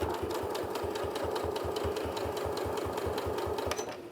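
A Janome sewing machine stitching a face mask hums along at a steady, rapid rhythm, its needle chattering in even repeated beats for several seconds before slowing at the end.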